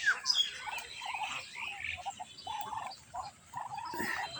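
Agitated ducks on a village farm give a run of repeated, close, harsh quacking calls, overlapping and uneven in rhythm, with no talk.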